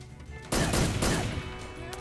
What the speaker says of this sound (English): Listen to the gunshots.